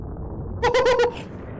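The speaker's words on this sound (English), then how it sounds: "That's a big explosion." A short burst of tonal, pulsing game sound effects from the Super Metroid planet-destruction sequence, four quick repeated blips over a low rumble, then a faint echo.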